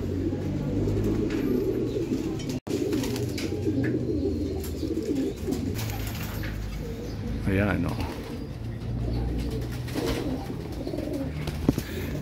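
Racing pigeons coo and murmur continuously at close range, with occasional wing flutters and someone speaking briefly.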